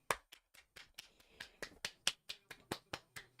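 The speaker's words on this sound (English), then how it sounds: "Give Fonzie a clap" A handful of sharp, quiet hand claps or snaps ring out one by one at a loose, even pace during a live psychic tarot stream, sparse and close with nothing else around them.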